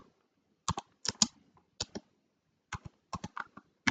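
Keys on a computer keyboard click in short irregular bursts as text is typed, crisp and close, with brief pauses between clusters of keystrokes and no talking.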